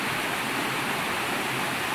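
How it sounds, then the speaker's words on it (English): Hickory Branch Falls, a 25-foot waterfall in Pisgah National Forest, North Carolina, after weeks of rain, roars as a steady, dense broadband rush with no pauses or voices. "So next up is the waterfall. This is Hickory Branch Falls."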